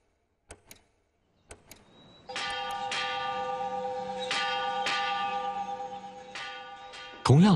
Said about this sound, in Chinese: 同样的钟声已经在厦门大学的校园里回响了97年。